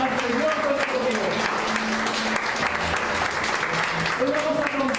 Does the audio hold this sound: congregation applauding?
yes